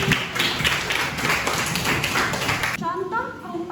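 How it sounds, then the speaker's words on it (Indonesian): Classroom applause for a student named Adnan during a public speaking class session, a brief burst of clapping from several people lasting a few seconds before tapering off. "Tepuk tangan buat Adnan"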